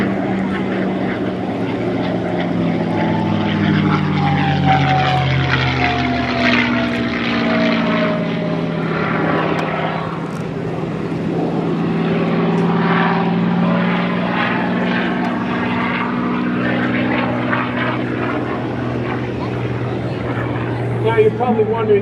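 A P-51 Mustang flies past at an airshow with a loud propeller drone and rising and falling engine pitch as it sweeps by, a sustained roar over about twenty seconds with crowd voices faintly mixed in.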